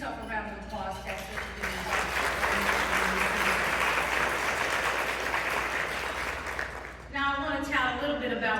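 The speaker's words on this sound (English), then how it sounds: "So please give yourself a round of applause, Texas." Applause at a realtors' luncheon swells into a dense wash of clapping lasting several seconds, bracketed by a speaker's voice before and after.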